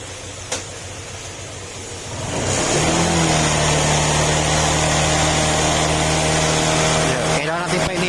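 A Honda Click scooter engine starts and idles steadily while warming up, a continuous close hum with a low, even drone after a brief quiet start.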